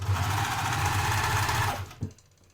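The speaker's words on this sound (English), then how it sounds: "Now I'm going to overlock down these sides and down the sides at the top so that when I fold it back and make a little hem it's nice and neat." An overlocker serges down the side edges of a black-threaded fabric top, a loud, steady rapid whirring hum that runs continuously before cutting off near the end, with no voices.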